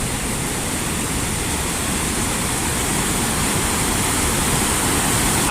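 Floodwater on Porter Brook roars through the Brocker Bank culvert, a loud, steady broadband rush with no breaks, close and continuous throughout.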